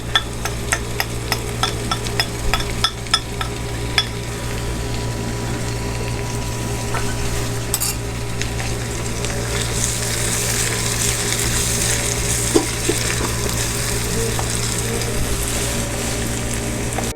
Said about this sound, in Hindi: हमारा लहसुन अदरक फ्राई हो चुका है। अब हम इसमें टमाटर डालेंगे और साथ में नमक भी डालेंगे